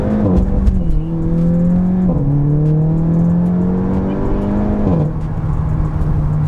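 A Seat Leon Cupra 300 accelerates hard from a drag-style launch, its engine note climbing loudly and steadily through each gear with clear drops at the gear changes, close and continuous without any talk.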